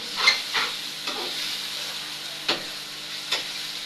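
Potatoes frying in a pan give a steady soft sizzle, broken by a few sharp stirring scrapes spaced a second or so apart, close and alone.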